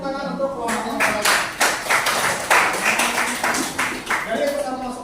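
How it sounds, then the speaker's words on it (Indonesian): A classroom group claps for another group of students, giving a short run of fairly close, rhythmic hand claps with talk faintly underneath. "Oke, kasih tepuk tangan untuk kelompok yang lain."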